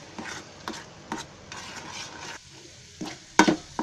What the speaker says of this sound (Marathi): आता ह्याला आपण आहे ना चांगला फ्राय करून घ्यायचा आहे.